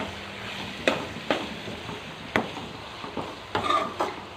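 Curry leaves hit hot oil for an ivy gourd (tindora) curry, giving a steady low sizzle broken by five or so sharp knocks of a spoon stirring against the pan.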